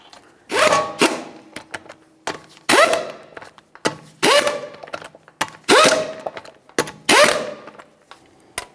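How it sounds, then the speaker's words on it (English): An impact wrench runs 22mm lug nuts onto a 2013-2015 Chevrolet Malibu wheel in five loud, rapid rattling bursts, each a second or less, separated by short pauses. "Start on all 5 of your 22mm lug nuts, bottom them out."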